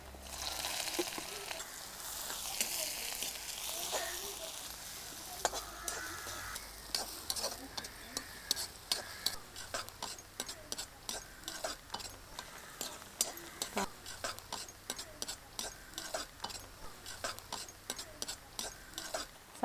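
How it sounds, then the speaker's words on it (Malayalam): Sliced onions fry in sesame oil in a pan, a soft sizzle under rhythmic scraping and tapping of a spatula stirring steadily, close and quiet, no voices. "കടുക് പൊട്ടിയിട്ടുണ്ടെങ്കിൽ സവാള ചേർത്ത് വഴറ്റാം"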